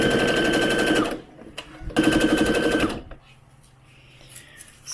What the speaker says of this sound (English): So now we're going to sew the back and the front together